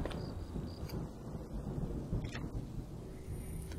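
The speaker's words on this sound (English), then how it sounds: "sounded like it was going to start raining again" Rain pours steadily in the video game Home while low rolling thunder rumbles underneath, a dense continuous storm wash with no voices.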